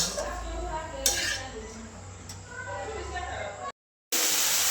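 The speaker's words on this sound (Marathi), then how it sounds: "अगदी थोडंसं टाकलं मीठ हलवून घेते" A spoon scrapes and clinks against a pot while a vegetable dish is stirred after salt goes in, with a low cooking hum beneath and a short break near the end.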